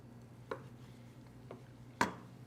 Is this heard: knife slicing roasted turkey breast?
yes